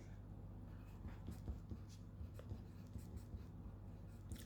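Pen writing on a paper pattern for a 4×4 lace closure, soft close scratching strokes in a steady irregular flurry over a constant low hum, without speech.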